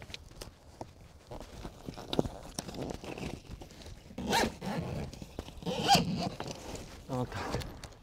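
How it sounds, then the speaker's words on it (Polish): A zipper being pulled shut on a packraft, quick scraping zips and rustling of fabric over several seconds, fairly close, with handling noise and no speech. "Następnie zapina się zamek błyskawiczny."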